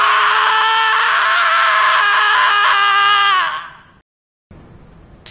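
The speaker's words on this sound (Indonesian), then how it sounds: "Tomiyama berteriak histeris seolah sudah tidak tahu siapa dirinya lagi dan apa tujuan hidupnya sebenarnya." An anime character screams hysterically in one long, loud, harmonic shriek lasting over three seconds, then fades into brief silence.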